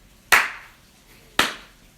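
Two slow, deliberate hand claps land close and crisp, about a second apart, with quiet between them.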